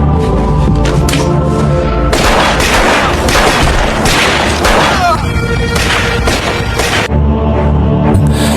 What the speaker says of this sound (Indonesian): Kegelapan total menyelimuti ruangan selama beberapa detik berikutnya saat suara tembakan terdengar.